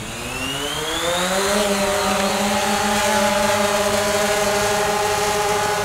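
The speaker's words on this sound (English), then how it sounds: "So again, an auto takeoff, it goes to about 4 or 5 feet and then just hovers until you start to fly it." XIRO Xplorer quadcopter drone lifting off on auto takeoff and then hovering a few feet up, a steady, loud droning whine of spinning rotors that rises in pitch during the climb and then holds level, with no talking.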